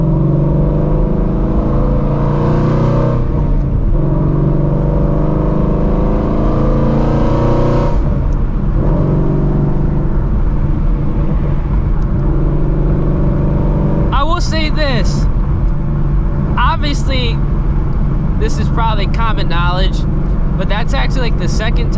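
A Ford Shelby GT350 engine revs and accelerates loudly and close, its pitch rising and falling in waves, while someone speaks intermittently over the engine noise.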